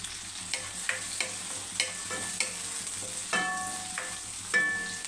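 Curry leaves, garlic pieces and onion frying in hot oil for Tamil Nadu style fish curry, crackling with a series of sharp pops and spatters over a soft sizzle, with clicks of a spoon stirring.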